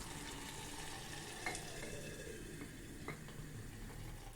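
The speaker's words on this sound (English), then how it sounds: "on very low simmer, I leave the mbogas to just simmer away for about 10 minutes" Kunde and terere leaves simmer in milk on very low heat, giving a faint, steady bubbling hiss with a few soft clinks from the pot.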